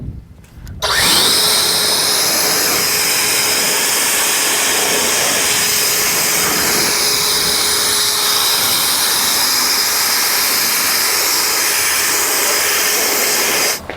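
A compressed-air blower dries off a car in a garage, starting abruptly as a loud, steady hissing roar that holds for about thirteen seconds with slight shifts in pitch, then cuts off.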